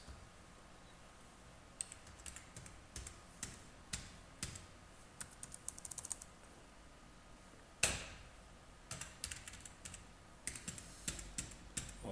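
Keys tapped on a computer keyboard while entering accounting records, as faint, irregular clicks in short bursts with gaps, heard alone in a quiet room.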